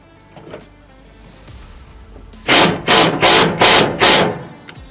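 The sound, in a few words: impact wrench driving a screw on a lawn mower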